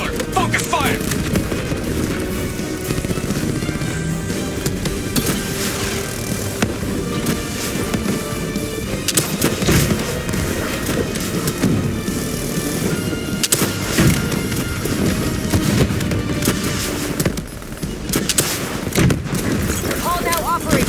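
Sustained gunfire and explosions from the video game Call of Duty: Black Ops 3 during a boss fight, a dense, loud barrage running the whole time with in-game voices over it.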